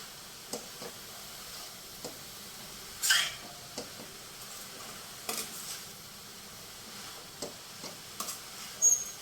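Grated beetroot, carrot and coconut for laddu fry quietly in a pan, a faint soft sizzle broken by intermittent scraping stirs and light utensil taps, no talking.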